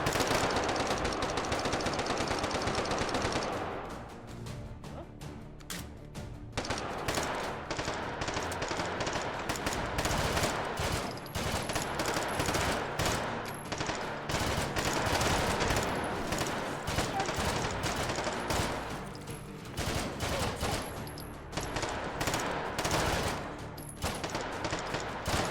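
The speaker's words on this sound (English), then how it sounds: "Give me a submachine gun." A submachine gun fires in a video game in long sustained bursts, dense rapid crackling shots that continue for most of the stretch with only short breaks between volleys.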